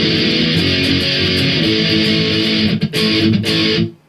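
An electric guitar plays the chorus ending of a song: loud, dense distorted strumming with brief muted chops near the end, then cutting off.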